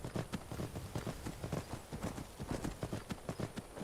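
Horse hooves clip-clopping in a steady galloping rhythm while riding in the video game Skyrim, close and continuous throughout.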